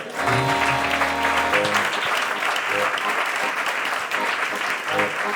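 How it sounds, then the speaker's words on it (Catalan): A live audience at a Catalan literary reading event gives sustained, dense applause, loud and steady throughout, with a few low musical tones sounding briefly at the start. "Un aplaudiment pels regals de llegir."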